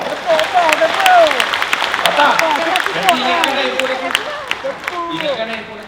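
Applause from a Sepahtu Reunion Live 2021 comedy show audience, welcoming a band, rises as steady loud clapping with a voice talking over it throughout.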